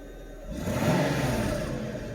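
A 1993 Mercedes 500E barn-find V8 with a freshly repaired throttle revs up from idle, swelling into a deep, rumbling surge that holds steady, close and fairly loud.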